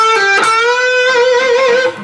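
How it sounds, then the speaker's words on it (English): An electric guitar plays a single note, then bends the string upward and holds it with a steady vibrato that wavers the pitch for about two seconds, ringing clearly with no talking. "and then bend 14 with a vibrato. Sounds like this."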